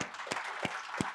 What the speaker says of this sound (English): I think we should give them a round of applause for